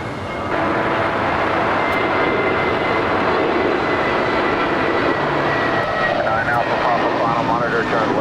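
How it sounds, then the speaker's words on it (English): China Airlines Cargo jet engines spool up for departure at LAX, a broad, steady roar that swells and holds, heard from a distance over the airport with a voice speaking faintly beneath it. "We also have the China Airlines Cargo Flight 5117 lighting up. We'll have a departure back to Taipei."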